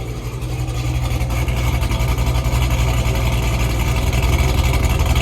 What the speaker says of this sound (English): Whew, does that sound good. Nothing like a good old cammed LS motor